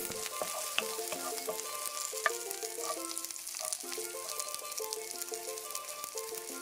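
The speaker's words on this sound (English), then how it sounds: "Add the onions, the garlic, pepper, and the celery and saute that for about 2 minutes." Onions, garlic, pepper and celery sauté in sesame oil for shrimp, giving a soft, continuous sizzle with occasional stir clicks, faint and set under a gentle background melody.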